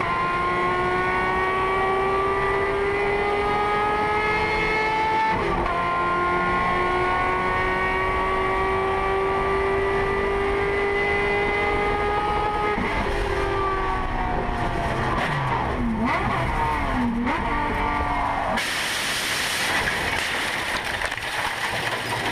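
Race cars roar along a motorsport track, engines droning loud and steady with rising and falling pitch, then several cars sweep past with shifting revs and a burst of harsher noise near the end.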